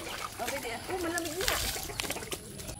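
Water drawn from a well splashes and trickles close by as people rinse off, with a person's voice talking over the sloshing throughout.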